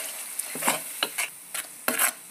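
Pasta sauce with chili garlic sauce stirred in a pan over a flame: several brief scraping strokes in an uneven rhythm, close and moderately loud, with no talking.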